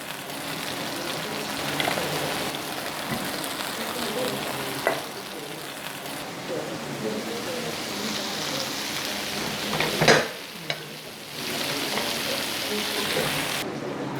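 Steak cooking in a covered pan, a dense hissing sizzle that swells and dips, with occasional louder spits and a brief quieter stretch as the lid shifts, heard close with no talk.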